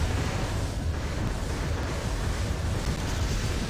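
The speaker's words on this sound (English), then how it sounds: "He's got that LX cannon out, and the Slugman set on fire." Dense, continuous rumbling roar of cannon fire and burning in a mecha video game arena battle, loud and unbroken throughout with no voices.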